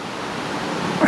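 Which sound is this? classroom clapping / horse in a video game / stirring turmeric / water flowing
water flowing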